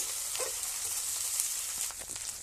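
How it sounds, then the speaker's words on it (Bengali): Tomatoes frying in oil in a pan, a steady close hiss and sizzle throughout, with a few faint scraping touches and no talk. "টমেটো দিয়ে দিলাম টমেটো এগুলো এখন কষাতে থাকবো"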